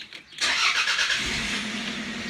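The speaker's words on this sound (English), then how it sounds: "start the car" A car engine cranks and starts after a P0125 coolant temperature code is erased, a brief starter whir giving way to a steady, close idle hum that holds to the end.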